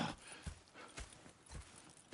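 Horse hooves clip-clop in a steady walking rhythm in Red Dead Redemption 2, about four muffled thuds spaced evenly, quiet and near with soft ambient noise behind.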